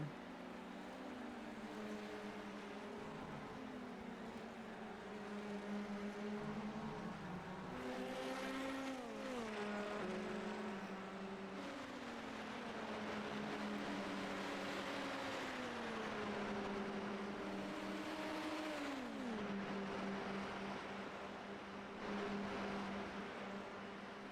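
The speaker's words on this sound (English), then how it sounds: "Give you guys a chance to hear the cars roar." Race car engines roar in a sim-racing league round at Watkins Glen, several cars droning at once with pitch sweeping up and down through gear changes and passes, steady and fairly distant, with no talking.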